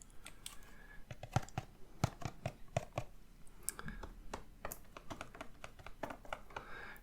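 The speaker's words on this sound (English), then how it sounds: "And we can get started opening our card packs" Panini Score football card packs being opened up close, a quiet run of crisp crinkles and clicks with no talking.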